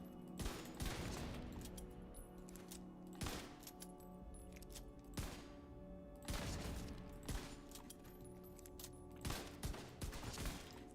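Bursts of gunfire from the PC shooter The Division 2 crack out in repeated volleys, loud and close, with short gaps between clusters of shots over a steady game background.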